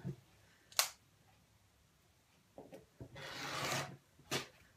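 Scissors trimming fabric around an embroidery patch for a memory cushion, heard as a few short, close snipping and rasping bursts with one longer cut near the end, separated by quiet pauses.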